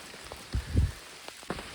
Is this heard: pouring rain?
yes